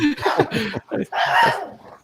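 A female dog whimpers and yelps after her tail is stepped on, sharp cries mixed in with excited people talking close by during an indoor show.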